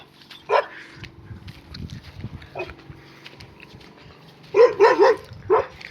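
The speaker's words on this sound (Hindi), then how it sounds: "अब हमारा चिंटू भाई उसको छेड़ रहा है और कुत्ता भौंस रहा है।" A village dog barks in a countryside farm field, short sharp barks near the start, then a quick cluster of three or four loud barks toward the end, with low rustling and quieter background sounds in between.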